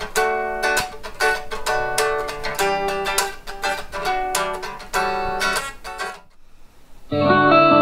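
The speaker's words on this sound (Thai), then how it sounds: "เสียงสดๆไม่ผ่านลำโพง" An Enya NEXG silent guitar is played unplugged, with no speaker, giving a series of bright plucked and strummed notes that ring steadily for about six seconds. A brief pause follows, then a different sustained tone enters.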